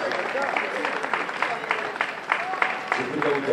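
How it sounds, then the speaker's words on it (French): An audience at a beauty-queen gala applauds with steady, moderately loud clapping, while an announcer's voice runs over it. "Vous les applaudissez très fort."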